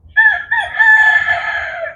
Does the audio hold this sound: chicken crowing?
yes